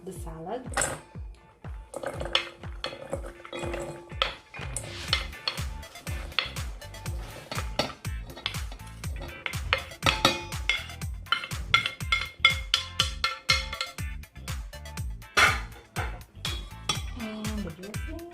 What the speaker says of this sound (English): So now I'm just gonna mix up the salad.